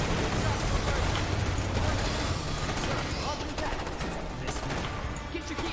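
Shotguns fire in the sci-fi strategy game Starship Troopers: Terran Command as a dense, continuous barrage of loud overlapping blasts and battle noise, with voices mixed in underneath.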